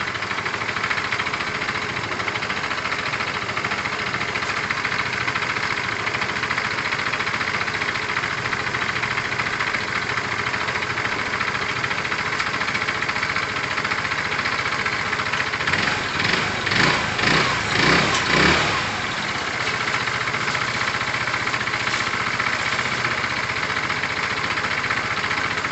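A Kawasaki Thundercat motorcycle engine idles steadily and loudly up close while its carburettor fuel screw is being adjusted, with a brief rougher, pulsing patch partway through before it settles back to an even idle.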